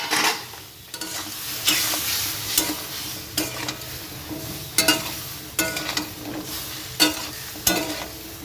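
Brinjal and green chilli frying in a pan with repeated scraping strokes of a spatula every second or so over a continuous sizzle, no talk.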